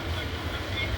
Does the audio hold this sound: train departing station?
yes